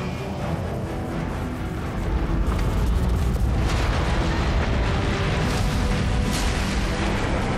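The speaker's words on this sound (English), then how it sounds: "The Neutron Gun is activating!" In the sci-fi shooter Fall of Cybertron, the huge Neutron Gun powers up with a loud, continuous rumbling roar that swells after the first couple of seconds, layered with bright mechanical crackles and no talk.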